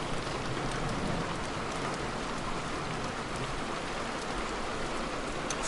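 Heavy rain pours steadily onto a canal boat and the surrounding water, a dense, even hiss of drops with faint louder patters, no voices present.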